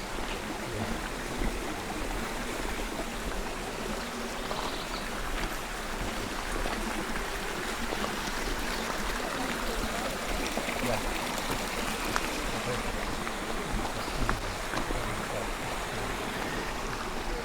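Natural spring water stream flowing beside a path in Hondo Canyon, a steady broadband rush and trickle that stays even and continuous throughout, close and moderately loud with no talk over it.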